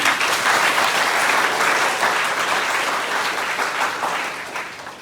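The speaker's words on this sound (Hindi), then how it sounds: "तो एक बार ताली बजाइए अपने स्कूल में।" Students in a government school break into sustained, loud applause, a dense wash of clapping that holds steady and then slowly fades toward the end.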